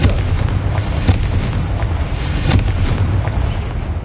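Confringo blasting-spell explosions in Hogwarts Legacy, a few sharp booming bursts in quick succession over a rumbling game background.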